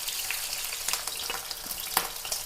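Beef pieces crackle and sizzle steadily in hot oil in a pan, with scattered sharp pops and some stirring over a constant bright frying hiss, heard close with no talking.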